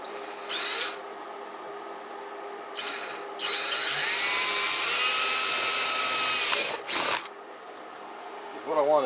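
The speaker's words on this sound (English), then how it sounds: "I'm going to drill one hole first." A power drill bores a hole for a seat mount on a Yamaha Majesty scooter, giving a high whining buzz. It runs in two short bursts, then one long sustained run with a final brief spurt, all loud and close.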